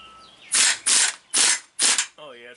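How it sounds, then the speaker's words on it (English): Four loud, broadband rattling bursts from a 3/4 inch air impact wrench working on a big truck's driveshaft, each lasting about a quarter second with short gaps between them, close up and with no talk. "I got to bring the 3/4 inch impact out, and I got to bring a different air hose because it's a bigger gun"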